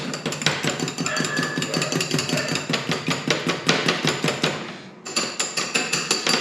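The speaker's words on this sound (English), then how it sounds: "Just whisk this egg up first." An egg is whisked rapidly in a bowl, producing fast, even, rhythmic clinking taps up close that pause briefly near the end and then resume, with no speech.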